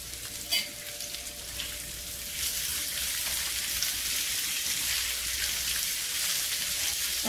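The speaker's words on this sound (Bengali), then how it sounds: "এখানে হচ্ছে আলু ভাজি করে নেব" Potatoes fry in a pan, and a steady broad sizzle fills the clip, swelling louder after a couple of seconds, with a few early clinks of a utensil.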